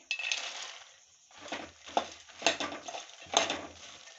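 Fox nuts (makhana) roasting in a little ghee in a pan over low heat, with intermittent scraping and rattling as they are stirred, coming in short close bursts separated by quiet gaps.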